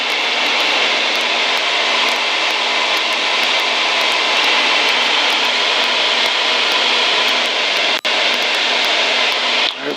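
Beech Travel Air twin-engine piston airplane cruising in flight, heard from inside the cabin: a loud, steady, broadband engine and propeller drone that continues without a break, with one brief click near the end.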